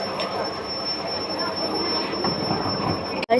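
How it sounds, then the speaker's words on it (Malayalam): A passenger train pulls into a station with a continuous high metallic wheel squeal over the rumble of rolling carriages, loud and close, ending in a sharp clunk. "നമ്മുടെ ട്രെയിൻ"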